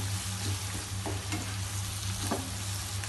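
Cumin and coriander powder frying in a pan with lentil mash for Daal Mash, a steady close sizzle with a few soft scraping stirs, no voices.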